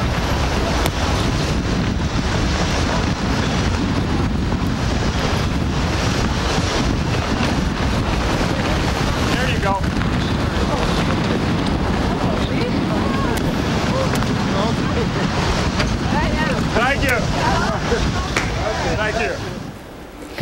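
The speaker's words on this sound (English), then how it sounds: "we're talking winds gusting close to hurricane force here around Chicago" Strong wind gusting close to hurricane force around Chicago roars and buffets the microphone continuously, loud and broadband throughout, with faint voices and street activity partly buried beneath it.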